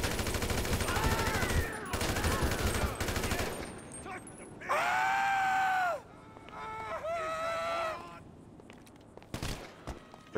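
Bursts of gunfire in GTA 5 mixed with horn-like tones and other game effects, loud and dense in the first seconds, then intermittent sharp shots with a voice talking at moments.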